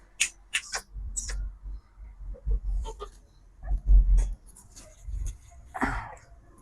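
Shih Tzu puppies in a pet store give scattered soft whimpers, squeaks and small yelps close by, in uneven bursts with short pauses.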